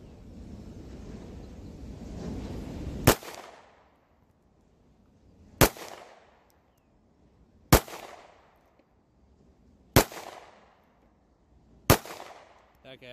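Five gunshots from a Smith & Wesson handgun fired at an outdoor range toward a target 30 to 40 yards away, sharp loud cracks spaced about two seconds apart, each with a brief echoing tail, over faint background noise.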